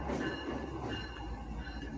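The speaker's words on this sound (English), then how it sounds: "And that's a freight train." A freight train passes by at a distance, giving a steady low rumble with faint metallic wheel tones and a brief louder swell at the start, with no one talking.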